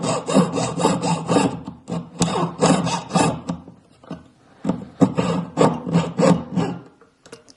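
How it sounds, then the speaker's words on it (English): A jeweler's saw blade rasps through a metal ring in quick bursts of back-and-forth strokes, close and crisp, pausing briefly between runs. "I am going in there with my saw blade to create a sharper corner"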